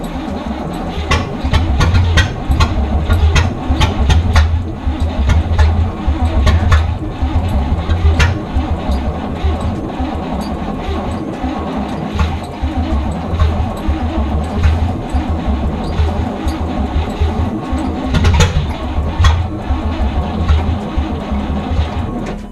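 An old barn-find hearse that sat for 40 years cranks and runs roughly, its engine churning in a steady, uneven mechanical chatter with sharp ticks, close and loud, with voices talking occasionally under the noise.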